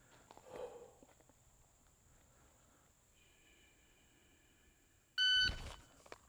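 A sharp electronic shot timer beep with a burst of noise at the end, after quiet shuffling and faint movement sounds during dry-fire draw practice.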